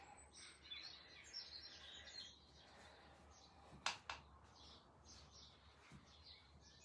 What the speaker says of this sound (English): I don't know if you can hear the birds behind